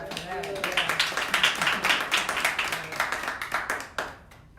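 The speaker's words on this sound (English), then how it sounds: "I'm a clap for that" Hand clapping from a small group, a steady patter of claps running for several seconds and thinning out at the end, with speech-like voices mixed in.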